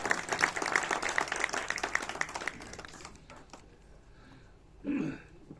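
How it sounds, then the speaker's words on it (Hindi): Applause from an audience at a talk, clapping fairly loud for about three seconds then fading out, followed by quiet with a brief throat-clearing or murmur near the end. "जोरदार तालियां दीजिएगा।"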